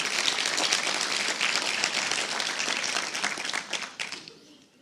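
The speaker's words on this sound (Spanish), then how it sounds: "Denle un aplauso al Señor." A church congregation breaks into sustained applause, dense and steady clapping from many hands filling the room before fading out near the end.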